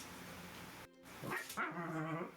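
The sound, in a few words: dogs barking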